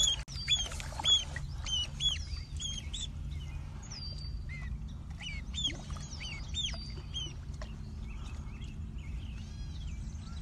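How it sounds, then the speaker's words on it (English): A baby swan cygnet gives repeated high thin peeping calls in short bursts, fairly close, over a low steady rumble of outdoor background noise. "Little baby swan"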